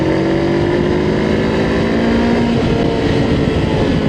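Honda NX500 twin-cylinder motorcycle engine revving hard while riding, a loud continuous rising engine drone with steady wind rush, no talking.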